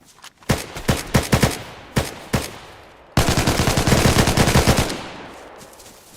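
Video game gunfire: a few separate sharp shots ring out close and loud, followed by a longer rapid burst of repeated shots that fades into a tail.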